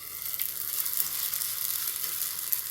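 Coconut-filled sweet poli sizzling on a hot griddle, a steady close frying hiss with faint crackles running continuously throughout, no voices.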